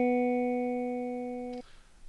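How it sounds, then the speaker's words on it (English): A chiptune synth patch built on a Reason Thor wavetable with a PPG dual VCF filter, playing one sustained bright square-like tone with stacked steady harmonics for about one and a half seconds before cutting off abruptly. "what I'm going to do is I'm going to create the chiptune sound."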